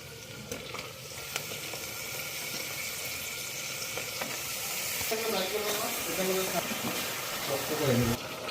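Meat frying in a hot pan gives a steady broadband sizzle with stirring scrapes and faint steam hiss, and a voice speaks over it toward the end.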